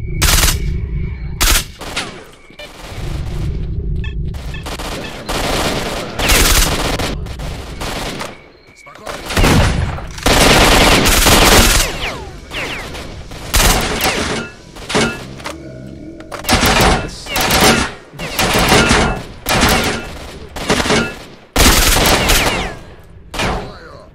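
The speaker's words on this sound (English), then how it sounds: "This gun, like the Groza is cool, but man, something about this one is like much more satisfying." Loud, close automatic gunfire from a rifle in S.T.A.L.K.E.R. Shadow of Chernobyl rattles in long bursts and short strings of shots separated by brief pauses, with mechanical clunks and some speech mixed in.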